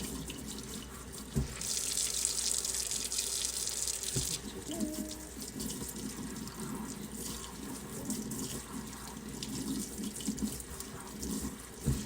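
Running tap water splashes steadily into a sink as a cloth mask is rinsed, a soft continuous flow with brief shifts and small clatters as the fabric moves under the stream.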